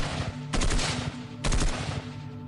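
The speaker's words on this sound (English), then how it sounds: "The gunfire intensified." Two sharp bursts of rapid gunfire ring out close by, each lasting about a second, with a short pause between them.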